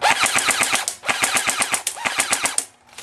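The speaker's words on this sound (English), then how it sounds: "Now we will go full automatic." An A17 R.I.S rifle firing on full automatic, two rapid bursts of evenly spaced sharp reports, loud and close, with a brief gap between them.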